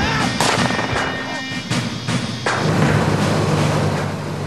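Several sharp rifle gunshots crack out at irregular intervals over a rumbling, noisy background, loud and fairly close, fired at a police aircraft in Australia.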